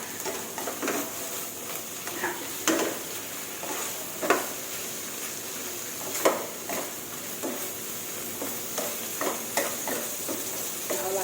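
Raw winter melon and egg stir-fried in a pan, with a constant sizzling hiss and repeated scraping strokes of a spatula in an uneven rhythm, close and moderately loud, no speech.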